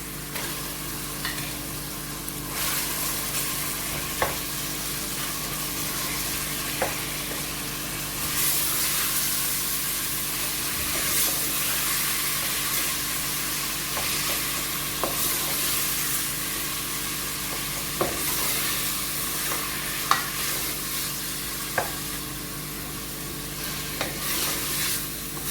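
Minced meat (keema) frying in a pan with a continuous close sizzle, punctuated every few seconds by crisp scrapes and clicks of a spoon as it is stirred, with no talking.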